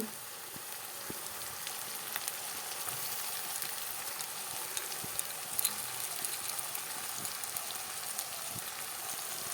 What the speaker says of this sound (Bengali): পেঁয়াজগুলো লাল করে ভাজা হয়ে গেল এখন মশলাগুলো ঢেলে দেব